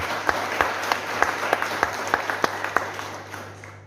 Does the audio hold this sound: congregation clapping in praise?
yes